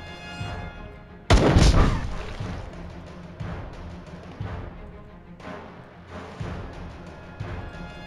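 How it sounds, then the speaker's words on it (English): In a sci-fi strategy game battle, a heavy explosion booms suddenly and loudly, followed by repeated thumping artillery-like blasts and rumbling impacts throughout. "Oh, hello, where'd this explosion come from?"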